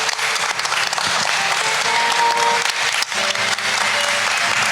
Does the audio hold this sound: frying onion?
no